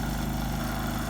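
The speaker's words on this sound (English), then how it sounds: "I'm really impressed by how quiet this generator is." A Predator 3500 inverter generator runs steadily in regular mode from about 12 feet away, a quiet, even engine hum with a low harmonic drone and no speech.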